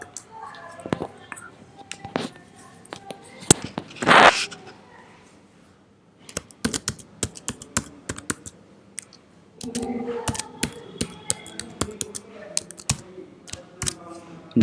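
Keys clack in quick irregular bursts on a computer keyboard while C++ code is typed, close and fairly crisp, with a pause midway before the tapping resumes.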